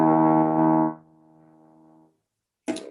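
Tenor trombone without a valve sounding a low E: a loud, buzzy sustained note that drops to a softer held tone, then a short pause and a brief voice.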